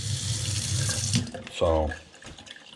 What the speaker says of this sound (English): the sink seems to work fine. We do have water up here now